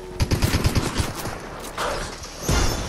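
Rapid bursts of charge SMG fire in Fortnite, a fast rattling string of close shots followed by a brief pause and another short burst, loud and dominant with no talking.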